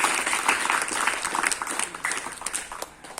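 Steady crowd applause at a school ceremony for the Indonesian Independence Day celebration, dense clapping filling the whole stretch at moderate level, with faint voices beneath.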